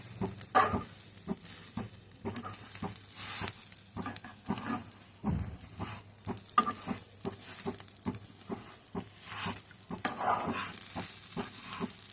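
Sambar vadi filling mixture stirred in a hot pan: repeated close scraping strokes of a spoon against the pan over a continuous sizzle, uneven in rhythm, with no talking.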